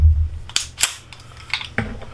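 Dry-fire trigger press on a Ruger 1911 Commander pistol as the sear releases, heard as a couple of sharp metallic clicks up close, followed by a softer click of the trigger resetting.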